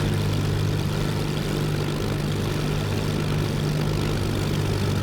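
Supermarine Spitfire Mk I propeller engine rumbling steadily at low throttle while taxiing in Microsoft Flight Simulator, a constant loud drone with a deep low hum and no voices.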